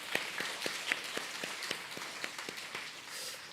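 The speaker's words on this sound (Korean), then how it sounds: "우리 하나님께 큰 박수로 영광을 드리겠습니다." Congregation clapping in a church during a Wednesday prayer service, a steady patter of many hands held for several seconds with no talk over it.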